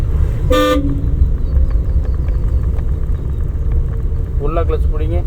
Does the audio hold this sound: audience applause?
no